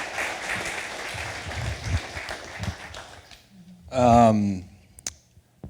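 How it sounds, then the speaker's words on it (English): A live storytelling event audience breaks into short applause after speech ends, a brief burst of clapping that fades quickly. "So please give a round of applause for David Hayes."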